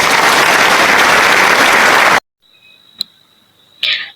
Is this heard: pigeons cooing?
no